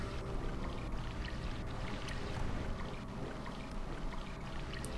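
Healing water pours out in the video game Stonekeep, a steady, rushing wash of noise that runs unbroken from start to finish with no voices.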